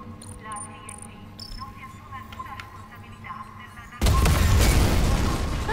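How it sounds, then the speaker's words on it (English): An explosion in the Dead Space Remake video game bursts in abruptly and loud after a quieter stretch of game ambience, then holds as a sustained roaring rumble to the end. "That's like a Mr. Beast explosion"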